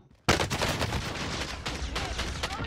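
Shotgun fire in Call of Duty Warzone: a sudden loud burst of blasts starting after a brief quiet, with repeated sharp reports and rattling gunfire over dense, close battle noise.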